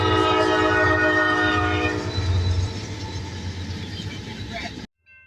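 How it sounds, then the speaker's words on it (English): A CSX westbound loaded coke train led by two AC-44 locomotives on the B&O subdivision in Ohio sounds a loud, sustained horn close by, then fades into a heavy rolling rumble of engines and cars before cutting off. "Next up was a westbound loaded coke train on the CSX B&O sub with 2 AC-44"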